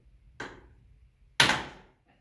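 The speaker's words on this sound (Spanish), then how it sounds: "con una madera y un martillo, levántala un poquito" Two sharp hammer strikes knock on a piece of wood wedged under an office chair base, each a crisp close impact with a short decaying ring, spaced about a second apart in otherwise quiet surroundings.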